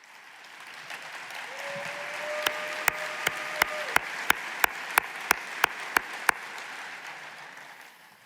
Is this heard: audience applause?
yes